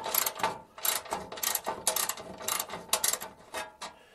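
A hand wrench, used where an impact wrench cannot reach, clicks and ratchets in quick bursts while loosening bolts on a car under restoration, a close, rhythmic mechanical ticking with short pauses and no speech.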